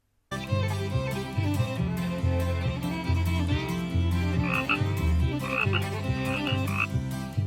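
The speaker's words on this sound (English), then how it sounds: "Frog." Frog croaks sound in a steady, rhythmic pattern, loud and close, with bright overtones that give them a musical, almost cartoon-like quality. No one speaks over them.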